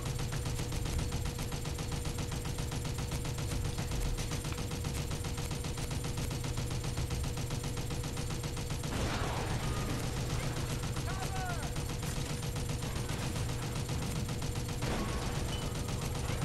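Turret gunfire rattles continuously in the video game Toy Soldiers: War Chest, a dense unbroken stream of rapid shots over a steady mechanical drone with a few louder bursts.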